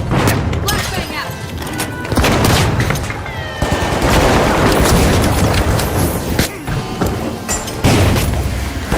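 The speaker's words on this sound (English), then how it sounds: "Flashbang out!" A flashbang grenade goes off in a video game firefight. Loud booming bursts and rapid gunfire come in dense clusters, with voices in the mix.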